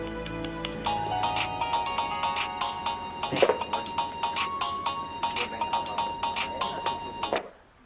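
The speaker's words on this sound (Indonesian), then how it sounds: "Gue mau nelfon Ponco Marino" A mobile phone rings in a repeating electronic melody for several seconds while a call is being placed, fairly close and moderately loud, then cuts off abruptly near the end.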